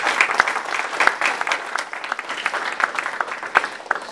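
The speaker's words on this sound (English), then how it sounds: "Please give them a big applause" Audience applause for panel members at an alumni event, a dense, steady burst of many hands clapping throughout, close and fairly loud with a few sharper individual claps standing out.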